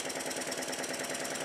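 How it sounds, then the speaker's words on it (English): A Stewart triple expansion model steam engine runs with a rapid, even mechanical chuffing and knocking, a steady close rhythm with no talk. "the engine also now runs in the opposite direction"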